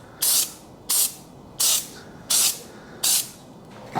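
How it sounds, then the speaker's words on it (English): Rust-Oleum pro-grade undercoating sprayed from an aerosol can onto a 2014 Honda Civic Si, five short sharp hissing bursts at an even rhythm with brief quiet gaps, close and loud. "So let's go ahead and start spraying her down."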